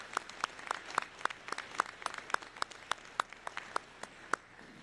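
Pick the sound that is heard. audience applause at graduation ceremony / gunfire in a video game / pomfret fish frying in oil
audience applause at graduation ceremony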